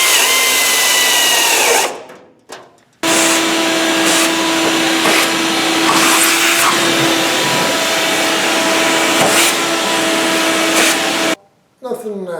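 A loud shop vacuum roars steadily with a rattling hiss, sucking metal filings out of a 1970 AMC Javelin/AMX hood, cutting off briefly twice before starting up again.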